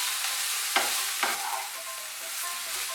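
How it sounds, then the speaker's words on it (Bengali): Salt and turmeric being stirred into frying fish head and eggplant for Bengali ghonto, with a continuous hissing sizzle and a couple of quick spatula scrapes against the pan. "ভালো করে নুন আর হলুদটা মিশিয়ে নেব"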